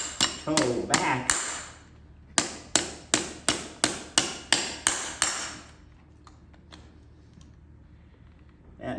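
Nails are hammered into a horseshoe on a horse's hoof with about a dozen sharp, ringing hammer blows: a quick cluster, a brief pause, then a steady evenly spaced series, followed by faint light taps.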